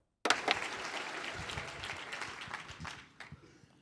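Audience at a stand-up comedy show breaks into loud, sustained applause and clapping that starts abruptly, holds steady, then gradually fades toward the end, with no talking over it.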